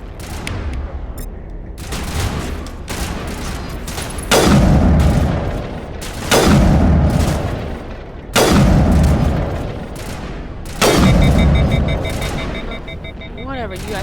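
Gunfire and heavy booming blasts in the Mass Effect 1 video game, arriving as four loud recurring bursts over a continuous battle din, with voices talking throughout.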